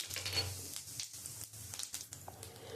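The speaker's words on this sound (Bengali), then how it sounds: "আমি ওই তেলের মধ্যে আমি জিরে আর একটা তেজপাতা ফোড়ন দিয়ে দেবো" Cumin seeds and a bay leaf dropped into hot oil for tempering, a soft close crackling sizzle with small pops, faint and continuous.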